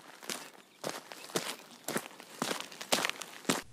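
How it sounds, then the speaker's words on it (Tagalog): Footsteps of someone walking behind in the MOA Arena after a concert land at an even, unhurried pace of about seven distinct steps, each a crisp scuff on a hard floor with quiet gaps between. "napansin niyang may naririnig na naglalakad sa likuran"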